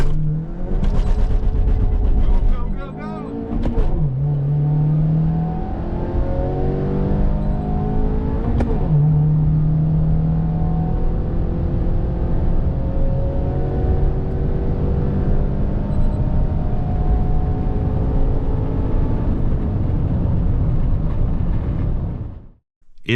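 A Honda Fit GK5 fitted with a Pedal Commander accelerates hard through a timed run into a headwind: a loud, steady engine drone rises in pitch with a couple of brief gear-shift dips, then cuts off at the end.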